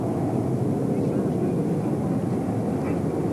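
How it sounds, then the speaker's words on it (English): Rocket engines roar from about three miles away, a steady broad low rumble that fills the scene without a break, distant yet heavy, with no voices over it. "we're able to hear the engines"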